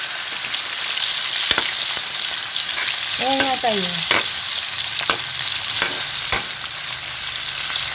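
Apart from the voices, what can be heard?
liver frying in pan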